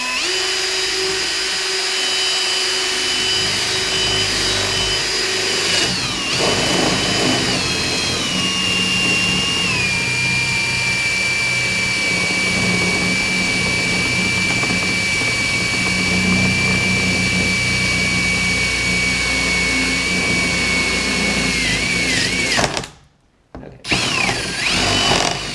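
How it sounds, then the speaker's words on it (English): A drill bores a relief hole right on the crack line of a cracked acrylic sheet, sending out a steady, loud whine with a sustained high tone for about twenty seconds. The whine cuts out for a moment near the end and then resumes. "I'm going to be drilling right on the crack line."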